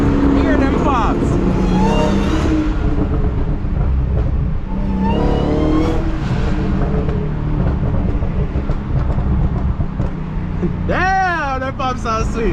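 An 800hp Dodge SRT Hellcat races hard against a Cadillac CTS-V, its loud engine roaring continuously with rising revs and exhaust crackles, while people talk over the noise throughout.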